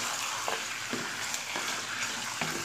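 Pieces of fish head fry steadily in hot oil in a pan, giving a dense, even sizzle with faint occasional crackles. The sound is close and continuous, with no voices.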